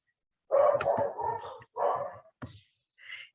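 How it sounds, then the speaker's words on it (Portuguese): Small puppies yap and bark in several short, high-pitched bursts, fairly close and loud, with brief pauses between barks and a faint whimper at the end. "Tem uns cachorrinhos aqui"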